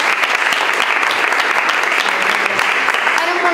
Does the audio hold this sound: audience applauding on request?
yes